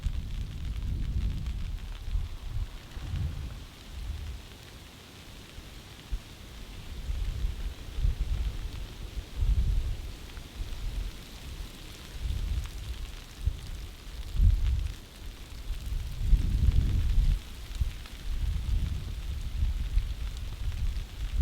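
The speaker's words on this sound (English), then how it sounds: "The freezing rain and sleet continues." Freezing rain and sleet steadily pattering on a NatureHike Ranch Fire hot tent, with gusty low rumbles of wind swelling and fading across the whole stretch; continuous, fairly loud, no voices.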